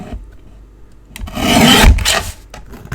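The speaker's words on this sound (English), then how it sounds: "I'll just trim that off" A paper strip for a handmade card is trimmed off, a short scraping, rasping cut that builds over about a second, with light handling taps before and after.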